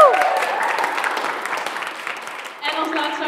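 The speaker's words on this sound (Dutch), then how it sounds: "Dus ik wil ook echt nogmaals een applaus voor iedereen van heel TC." An audience at a HAVO exam concert applauds the whole production team, a full round of clapping that gradually fades before a voice and tonal sounds cut in near the end.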